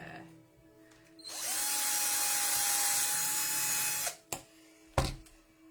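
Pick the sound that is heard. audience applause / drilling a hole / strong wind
drilling a hole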